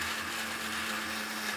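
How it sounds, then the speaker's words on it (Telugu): A mixer grinder whirs steadily as it blends a spice tempering for soft idli, a close, constant motor hum with no pauses over the short stretch. "ఇప్పుడు మిక్సీ పట్టేద్దామండి మెత్తగా."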